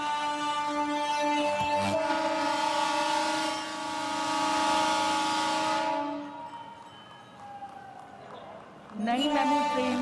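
A new Ujjain–Indore MEMU train departs at a flag-off ceremony, its horn sounding loud and sustained in long steady tones with a brief break, then a final renewed blast.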